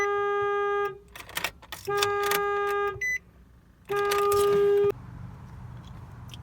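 An aftermarket alarm on a Nissan Sentra sounds loud, steady electronic tones in three long bursts, each about a second, with short chirps between them and a faint hum once the last burst ends.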